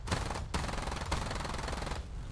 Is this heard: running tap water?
no